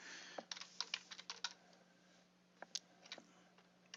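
Typing on a computer keyboard, quick irregular clusters of crisp key clicks with short pauses, faint and close over a low steady hum.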